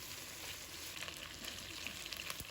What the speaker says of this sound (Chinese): 煎鸡翅的时候开中小火，这样才能够把鸡翅煎至2面金黄